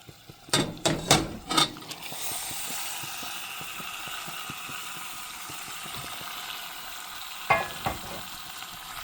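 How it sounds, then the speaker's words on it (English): Drained yuca sautés in a pan of melted butter and spice sauce, hissing and sizzling steadily close up. A burst of spoon-stirring clatters comes at the start, and a few more scrapes follow later. "And now I'm going to stir it all up so that all of the spices are covering the yuca and everything's mixed up well."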